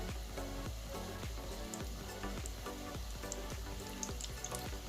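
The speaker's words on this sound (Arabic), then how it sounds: "من بعد ما سخنت الزيت كنديرو فيها البريوات ديالنا" Peanut briouats fry in hot oil with a steady, close sizzle and crackle that continues without pause, alone and without voices.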